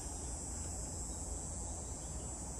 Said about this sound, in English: Did you guys hear that cicada?